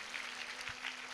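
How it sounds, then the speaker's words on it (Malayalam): A church congregation claps together in a brief, steady burst of applause, soft and somewhat distant, with a faint tonal hum beneath. "കൈയടिച്ചു കഥാവിനെ മഹത്വപ്പെടുത്താം."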